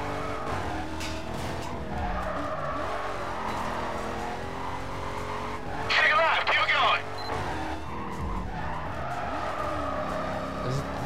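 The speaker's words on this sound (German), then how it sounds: "Der Wagen rutscht hier so sanft um die Kurve." A race car in the Need for Speed Carbon video game slides around a curve, its engine droning under a burst of tire skidding and squeal, while a player talks over the game audio.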